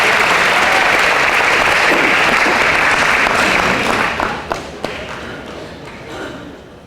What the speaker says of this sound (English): Let's give one more big round of applause for our male and female faculty student athletes of the year.